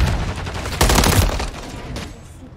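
Loud gunfire in a shooter video game, with a dense burst of overlapping rapid shots in the middle that trails off into scattered, quieter reports.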